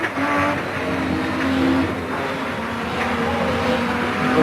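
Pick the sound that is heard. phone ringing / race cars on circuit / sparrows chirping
race cars on circuit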